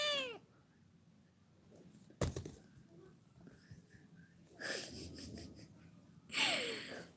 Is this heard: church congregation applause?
no